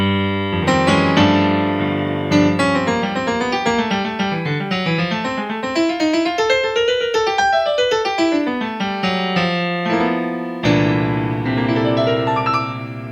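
A keyboard plays an advanced lick, a fast, complex melodic run over a sustained chord in G held in the bass, loud and clear with no talking, pausing briefly before the chord returns.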